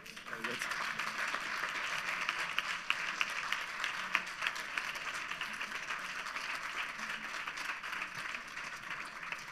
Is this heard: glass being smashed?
no